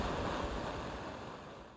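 Ocean waves wash against the shore of Vancouver Island's Juan de Fuca coast, a broad, steady hissing surf with wind mixed in, gradually easing over a couple of seconds.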